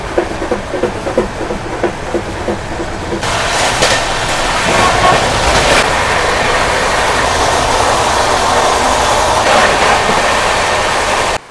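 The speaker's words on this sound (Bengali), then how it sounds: "মাঝখানে স্টপ দিয়েছে 7টা, ট্রেন ছেড়ে দিয়েছে" Jammu Tawi Express running on rails, a loud, steady broadband rumble and rush of the moving train that swells after a quieter opening and continues without a break.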